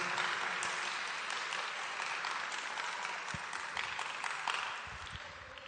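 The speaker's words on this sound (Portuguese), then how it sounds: "aplauda o nome do Senhor Jesus" A church congregation claps together in sustained, even applause that fills a large hall and tapers slightly toward the end.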